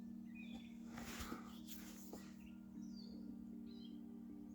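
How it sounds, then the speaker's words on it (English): Morning birdsong outdoors beside still water: faint, scattered chirps and short calls at a distance over a steady low hum, with a few brief louder rustles. "I don't know if you hear the birds in the background"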